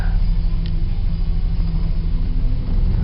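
1993 Chevy S10 pickup heard from inside as it drives off, giving a loud, steady low engine rumble and road drone that runs continuously with no talk.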